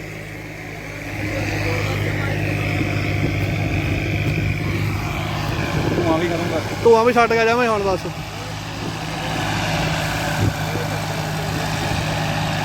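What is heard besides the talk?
tractor engine with turbo running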